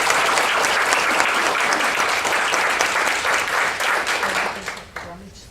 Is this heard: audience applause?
yes